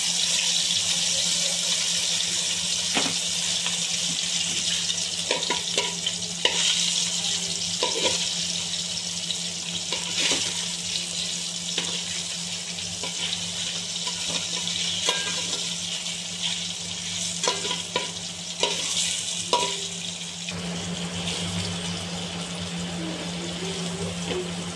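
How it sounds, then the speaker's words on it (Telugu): Fish pieces fry lightly in hot oil for a gongura fish curry, giving a steady, close sizzling hiss that runs unbroken through the whole stretch with a few small clinks, and no one speaks. "దీంతో ఇప్పుడు ముక్కలు వేసుకొని లైట్గా ఫ్రై చేసుకోవాలి"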